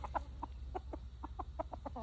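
A young rooster, sold as a hen, gives a short run of rhythmic clucks. The calls are close and fairly faint over a low steady background hum.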